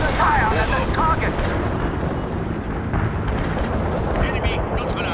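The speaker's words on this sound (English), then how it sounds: "Napalm delivered as intended" Napalm strike in the strategy game World in Conflict: heavy, rumbling blasts and roaring fire roll on continuously, loud and close, with clipped voices talking over the din.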